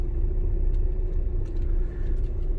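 A car engine while driving on a road, a steady low rumble and hum of the motor with road noise, continuous and fairly loud throughout with no talking.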